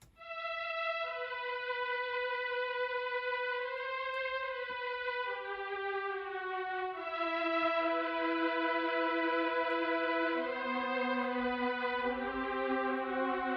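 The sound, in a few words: six violins synth preset melody with EQ and Valhalla reverb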